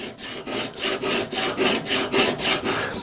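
A corner chisel is rubbed back and forth on a diamond sharpening plate clamped with a holdfast, giving steady rhythmic gritty rasping strokes, roughly ten in a row, loud and close with no talk.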